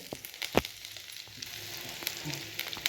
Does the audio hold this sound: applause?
no